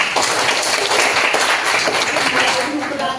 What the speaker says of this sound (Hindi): एक बार अपने लिए जोरदार ताली चाहिए